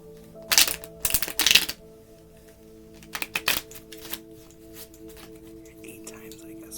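A deck of cards riffle-shuffled during a tarot or card reading, heard as a few brief crisp bursts of flicking and rustling, close and moderately loud, with steady background hum between them.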